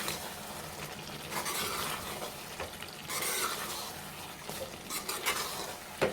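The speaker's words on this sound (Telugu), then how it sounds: "కొత్తిమీర అయితే వేసుకుందాం. మంచిగా కలుపుకోవాలి." Brinjal and tomato curry with fresh coriander leaves being mixed in a pan, giving a steady wet sizzle with scraping spoon strokes that swell and fade across several seconds, close and moderately loud, no voices.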